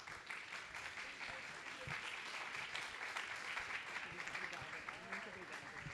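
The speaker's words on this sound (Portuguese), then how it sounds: "Palmas para a Aline." Faint, steady applause from a book-fair audience welcoming journalist Aline Midlej onto the Petrobras stage, a dense even patter of many hands sustained throughout with no pauses.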